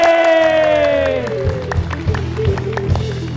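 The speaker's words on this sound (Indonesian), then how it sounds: "Tepuk tangan dulu, kasih suara." A studio audience at a televised Indonesian talk show claps and cheers, a burst of crowd noise rising after a sustained tone and continuing steadily with scattered shouts.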